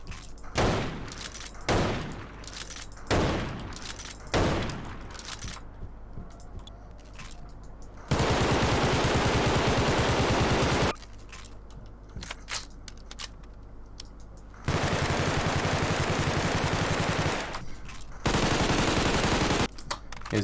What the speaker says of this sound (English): Here's them shooting NPCs.